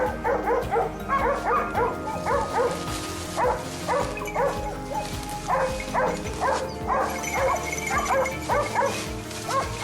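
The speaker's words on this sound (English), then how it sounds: "the barking of our hounds erupted from the base of the mountain" Hunting hounds bay and yelp in rapid, overlapping bursts at a wild boar cornered in thick brush at the foot of a mountain, the pack barking steadily and fairly close over a constant low rumble.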